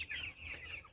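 Broiler chickens about thirteen days old cluck in a rapid, steady chorus over a low background hum, close and fairly loud with no talk.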